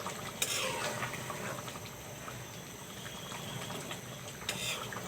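Thinly sliced bottle gourd simmers in a pot, giving a steady soft bubbling hiss with faint clinks and light stirring sounds throughout.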